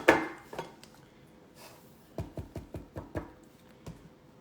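Spoon scraping and tapping green goddess dip onto a plate, a few soft clinks at first, then a quick run of sharp utensil knocks and scrapes close by, fairly quiet.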